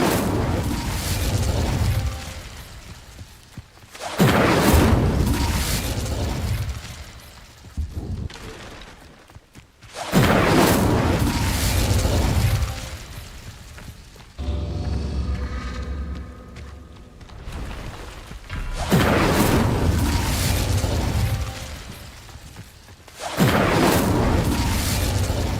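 Repeated booming fire-spell blasts from Incendio casting in Hogwarts Legacy, several loud bursts spaced a few seconds apart with quieter gaps between them.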